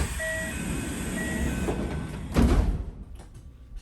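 On the Kintetsu Domyoji Line at Domyoji station in the evening, a train sounds steady electronic warning tones, then its doors slide shut with a firm thud before the cab goes quieter.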